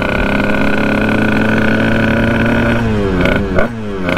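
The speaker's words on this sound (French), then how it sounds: "Et la moto elle avance." A motorcycle engine running steadily in gear as the bike moves forward during wheelie practice, a continuous close droning hum with a brief rise and shift in pitch near the end.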